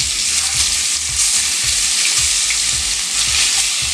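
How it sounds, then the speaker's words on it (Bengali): Fish pieces frying in oil in a pan, a close, dense sizzle with a faint rhythmic low thumping underneath, continuous and without speech. "এই তেলটার মধ্যে এবার আস্তে আস্তে এক পিস করে মাছগুলো দিয়ে দেবো। তো মাছগুলোকে একটু ভেজে নিতে হবে।"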